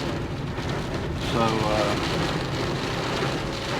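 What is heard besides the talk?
rain while driving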